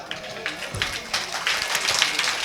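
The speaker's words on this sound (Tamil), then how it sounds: "ஜோராக கைத்தட்டுங்க." Village audience at an outdoor performance clapping in scattered bursts, irregular hand claps building toward fuller applause over a couple of seconds.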